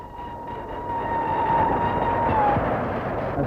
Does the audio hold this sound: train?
yes